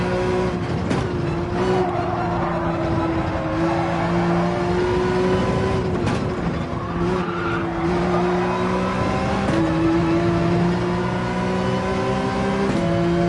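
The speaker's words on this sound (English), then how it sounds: "Look at all those cars still on the same straightaway." Race cars roaring down a straight in Gran Turismo 7 at Sardegna: a continuous, loud wall of engine drone with shifting pitches as several cars run together, and occasional tire squeal, no talking.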